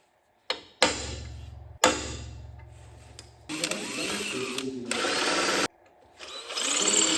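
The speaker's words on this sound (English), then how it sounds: "center punch our holes now." Sharp metallic strikes of a center punch marking holes in aluminum, a few separate hits, followed by longer bursts of grinding workshop noise and a ringing hum, close and fairly loud.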